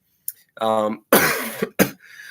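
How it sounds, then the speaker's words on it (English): A short burst of harsh, close coughing, a couple of rough coughs and a throat-clearing rasp, with a brief voiced sound just before. "I still got a little bit of a cough"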